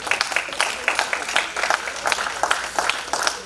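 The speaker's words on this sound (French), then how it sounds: "applaudissons encore pour la vie de papa" Audience applause at a life celebration for a father, held in the USA: a steady wash of many hands clapping together, moderately loud and continuous throughout, with a little crowd noise mixed in.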